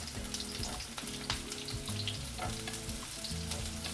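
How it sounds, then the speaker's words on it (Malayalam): Chopped onions sizzle in hot oil in a pan as the base for a capsicum fish curry. The frying hiss is steady and close, with occasional stirring scrapes throughout and no voices. "ഇനി ഇതിനകത്ത് ഈ സവാള അരിഞ്ഞതില്ലേ അതും ഇട്ട് കൊടുക്കാം."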